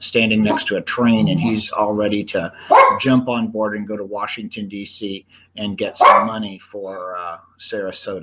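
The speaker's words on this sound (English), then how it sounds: "Please excuse my dogs. I have 3 of them and stuff's going on outside" Three dogs barking inside a home, yapping intermittently beneath a man's steady, close talk that stays in the foreground throughout.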